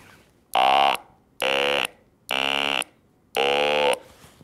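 Four loud, identical synthetic buzz tones imitating vocal fold excitation, each about half a second long, separated by short silences, harsh and reedy like a flat electronic drone.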